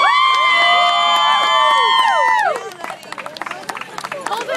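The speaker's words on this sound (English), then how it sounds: "They're cheering for you." A crowd cheering loudly for Anthony at a head-shaving event, with drawn-out shouts and whoops from many voices. The cheering breaks off into scattered claps, knocks and murmurs.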